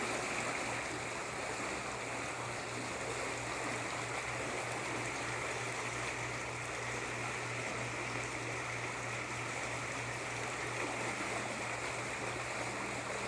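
A Wellis SwimLine swim spa runs its propulsion current at level 5, a steady, loud rushing of churning water that holds constant throughout with no talk over it.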